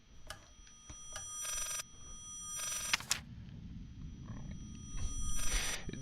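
A telephone rings in the Layers of Fear VR horror game, with several bright, buzzing bursts of ringing repeating at irregular intervals over a low rumbling ambience, fairly close and fairly loud, with no speech.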